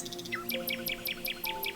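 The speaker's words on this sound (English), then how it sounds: "a bird calling from deeper in the trees" A bird sings from within a forest, its bright chirping phrases repeating in a steady rhythm over a low woodland hum, with no voices.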